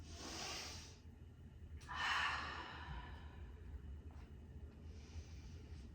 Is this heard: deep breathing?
yes